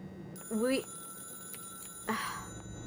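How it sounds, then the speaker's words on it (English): A telephone rings in the atmospheric horror video game Casting Whispers, two short, fairly quiet ring bursts separated by a pause over a faint background hum. "Yes, I'll answer the phone."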